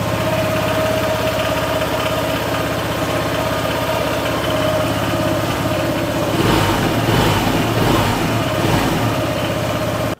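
A Honda PCX160 motor scooter engine with a newly replaced air filter idles steadily nearby with an even putter that swells slightly near the end as the throttle is blipped.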